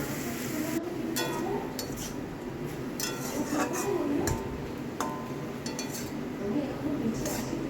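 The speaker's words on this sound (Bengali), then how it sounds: "এই জলের সঙ্গে শাকটাকে ভালো করে নেড়ে সেড়ে নেবো জলটাকে একটু শুকিয়ে নেবো" Metal utensils clink and scrape against a pan while soft, watery cooked greens are stirred, with repeated irregular clinks over a steady low kitchen background.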